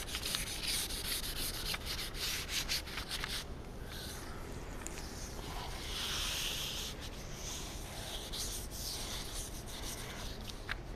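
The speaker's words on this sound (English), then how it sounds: "You can take a Scotch-Brite and just rough it up." A Scotch-Brite pad is rubbed back and forth over a GMC Motorhome window frame, a close, steady scratchy scrubbing with quick repeated strokes and no talking.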